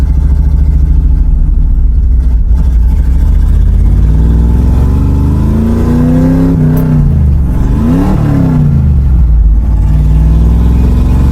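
A 1966 Ford Mustang vintage racing car's engine roars loud and close while driving, revving up and down through rising and falling pitches over a constant heavy rumble, with no speech over it.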